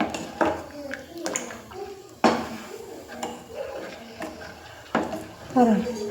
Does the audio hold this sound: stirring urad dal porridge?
yes